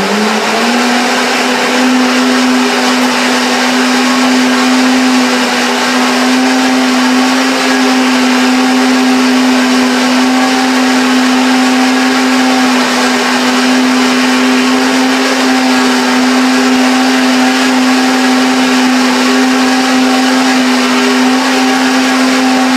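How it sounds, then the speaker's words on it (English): A loud, steady blender motor whirs continuously with a constant high hum while blending hazelnuts, running alone without pause for the whole stretch. "If you do have a strong blender"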